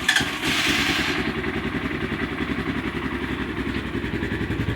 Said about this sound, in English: It sounds like a motorcycle. That's what a motorcycle should sound like.